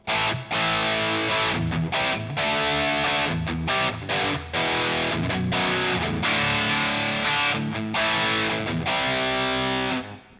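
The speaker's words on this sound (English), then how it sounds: "Let's go into the distortion sounds." Electric guitar played through a heavy distortion effect, thick sustained chords and riffs with abrupt stops between phrases, loud and alone with no talking.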